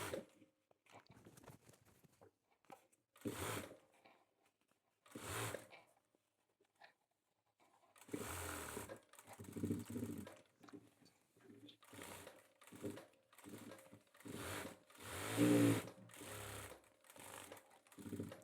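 Sewing machine stitching along the edge of a men's kurta, running in short separate bursts and then in quicker, denser runs near the end, with faint speech in the quiet stretches between.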